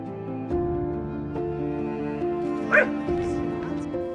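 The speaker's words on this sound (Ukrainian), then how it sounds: "ми вирішили взяти собі собачку Арч." A small dog gives a sudden yip and a few whimpering cries over a steady, tonal background hum, the loudest yelp briefly rising near the end.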